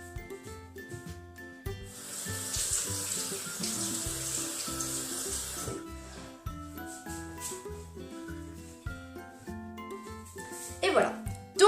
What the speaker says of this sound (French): Alors je vais me laver les mains.